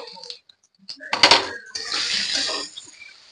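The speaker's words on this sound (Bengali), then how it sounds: "আমরা এবার ঢাকাটা খুলে দেখে নেব।" A lid comes off a pan of potol dorma with stuffed pointed gourds frying inside: a sharp metallic clank, then a steady, close sizzle of frying.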